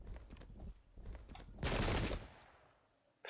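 A musket volley in the Pike and Shot strategy game, during a Transylvanian versus Spanish multiplayer battle: a dense, loud crackling burst of massed gunfire that rises abruptly after quieter scattered shots, then fades.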